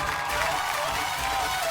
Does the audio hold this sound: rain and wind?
no